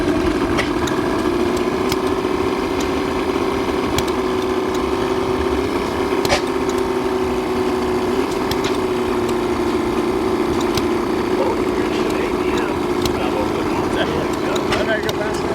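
At a tri-state gas engine and tractor show in Portland, Indiana, an antique gas engine runs with a steady droning hum and a few sharp knocks, while people talk nearby throughout.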